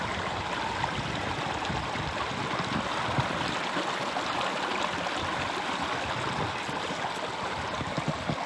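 A river stream flows steadily outdoors in a summer park setting, giving a constant, fairly loud rushing and trickling wash of water with no break and no voices.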